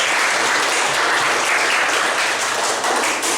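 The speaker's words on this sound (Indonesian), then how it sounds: "Tepuk tangan buat kita semuanya." A large audience at a global diversity outreach session for teacher trainees gives loud, dense applause, a continuous roar of many hands clapping at full strength from start to finish.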